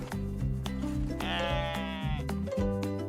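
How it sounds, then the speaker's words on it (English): A goat gives a long, wavering bleat over a bright, busy layer of children's music. "It's a goat."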